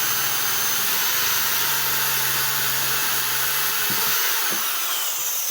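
A power drill bores holes, its loud high whine running continuously with a low motor drone that drops away near the end.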